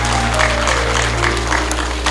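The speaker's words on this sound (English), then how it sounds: "Clap for that." Crowd at a night Shiv Puran yagna at a Hindu mandir clapping together, a continuous close wash of applause over a steady low hum from the sound system.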